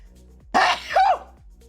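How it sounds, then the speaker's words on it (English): A single loud human sneeze, a quick inhale then a sharp burst, close up and alone in a quiet room. "I'm gonna sneeze."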